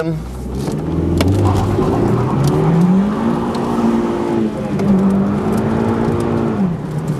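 A Volkswagen Polo GTI with traction control permanently off accelerates hard, its engine note rising and holding steady, then dipping and climbing again over about seven seconds, loud and close, with a continuous rough roar suggesting wheelspin.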